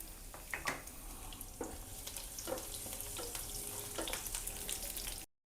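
Garlic cloves frying in hot oil in a kadai, a steady low sizzle with scattered crackles and light stirring clicks throughout, fairly quiet and continuous.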